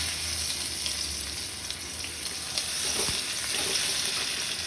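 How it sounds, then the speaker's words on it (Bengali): Chopped onion hitting hot oil already sizzling with panch phoron and dried chili, a steady close broadband frying hiss with a few light clinks of a spatula. "আমার পাঁচফোড়ন শুকনো লঙ্কাটা একটু ভাজা ভাজা হয়ে গেছে এখন আমি খানিকটা কাটা পেঁয়াজ দিলাম"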